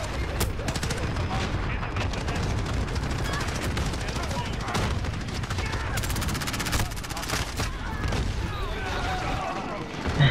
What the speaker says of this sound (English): someone hit a million explosives